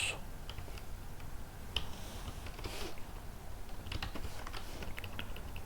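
A computer keyboard is typed on in a shell terminal, giving a quiet, close series of irregular key clicks in short bursts over a faint steady background hiss.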